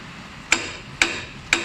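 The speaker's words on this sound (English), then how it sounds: "I just hammer on it until it comes out." Three sharp metallic hammer blows on a Fiat Panda ball joint ring out at an even pace, each a clear close strike with a brief ringing decay.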